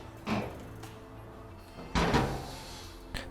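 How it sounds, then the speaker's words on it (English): Front panel of a Maytag Centennial dryer pressed back and lifted off, giving two clear thunks about a second and a half apart, with a small knock at the end. The sounds are close and moderately loud, with no talking. "Now to remove this panel, we're going to press backwards towards the wall and lift up."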